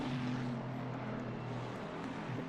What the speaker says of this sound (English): one of the Lamborghinis in the background we just heard screaming away. That lovely V10 engine